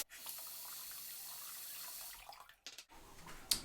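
A bathroom faucet runs steadily into a sink for a wet shave with soap and razor. The flow is a soft, even hiss, then cuts off briefly with small splashes and a clink near the end.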